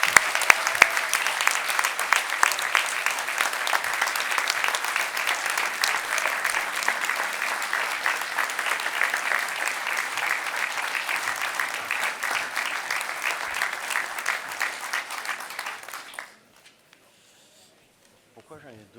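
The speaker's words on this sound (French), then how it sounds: "je vous demande donc de faire un tonnerre d'applaudissements pour Monsieur le maire de Cuers, Bernard Mou" Sustained applause from a large crowd at a mayor's New Year ceremony in Cuers, France, steady and dense for about sixteen seconds, then cutting off into near quiet.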